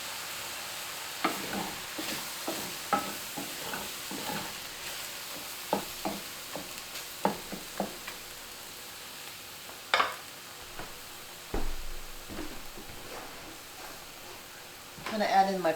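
Soy milk added to food in a pan, with soft sizzling and repeated clicks and scrapes of stirring, fairly quiet and close, with no talking.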